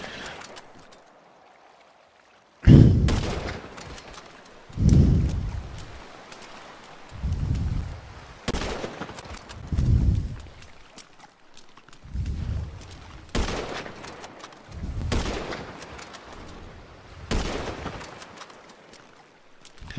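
Gunfire in GTA V, heard as a series of bursts and booming shots spaced every couple of seconds over a low ambient bed, moderately loud and fairly close.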